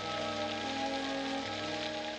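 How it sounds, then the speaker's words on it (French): Cartoon rain falls in a dense, steady patter across the whole moment on the day of a village carnival, with a faint sustained musical tone underneath and no talk. "il ne doit pas pleuvoir le jour du carnaval!"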